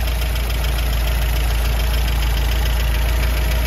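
A 1964 MG B with an 1800 engine and twin SU carburettors idles steadily at close range, a dense, even mechanical hum with a faint rhythmic tick running underneath and no pauses.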